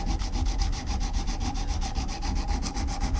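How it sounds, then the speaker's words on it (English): Sandpaper on a flat wooden sanding block rubs back and forth against a flat-head screwdriver shaft by hand, a close, steady rasping in quick, even strokes with no speech. "and I start sanding."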